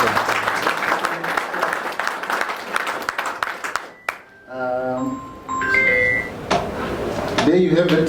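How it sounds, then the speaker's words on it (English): A round of applause at a Rotaract Club talk fills the first half, steady and moderately loud, then gives way to chiming electronic tones and voices. "But another round of applause for..."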